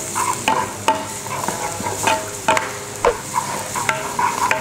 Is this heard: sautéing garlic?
yes